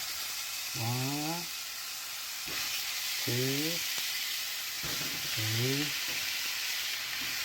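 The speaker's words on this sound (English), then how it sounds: "We're just going to put them in a saute pan." Burger patties sizzle in a saute pan with a steady, close broadband hiss, while short rising tonal squeaks break through three times at even intervals.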